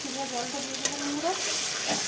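Spice paste with cumin and a dry chilli fries in a pan as water is poured in, giving a steady bubbling sizzle with a sharp stirring clink midway and faint tonal sounds throughout.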